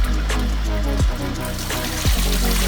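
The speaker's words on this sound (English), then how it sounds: "I usually like to sparge about a gallon at a time, and then let that drip through the grain bed before I add the next gallon." Sparge water trickles and drips through a grain bed during homestead beer brewing, a close, continuous splashy flow with a few sharper drops punctuating it.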